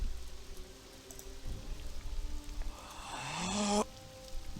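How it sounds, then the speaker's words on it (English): Steady rain falling in a fantasy role-playing video game, a soft continuous hiss of drops with a rising whoosh of another game sound swelling briefly before cutting off. "I wish this rain would stop."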